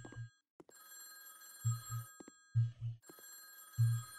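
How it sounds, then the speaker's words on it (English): A telephone rings in a horror video game, its bell sounding in repeated double bursts separated by short pauses, fairly close and clear over a faint steady background. "Phone ringing?"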